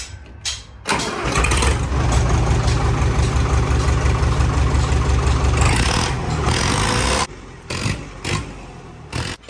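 A Sonalika tractor engine cranks and fires up close by, then runs with a loud, rough diesel rumble for several seconds before settling into sputtering bursts.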